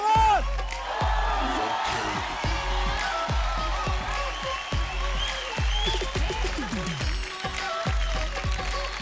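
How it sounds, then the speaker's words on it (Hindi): A television dance-competition audience applauds and cheers after a performance, crowd clapping and whoops under loud music with rhythmic bass hits, voices mixed in. "तालियां रुकनी नहीं चाहिए, come on!"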